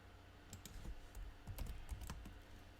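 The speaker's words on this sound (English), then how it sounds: "So I'll go up here and I'll type Talbot's women's jeans." Quick, light clicks of keys being typed on a computer keyboard, coming in uneven bursts at close range against a quiet background.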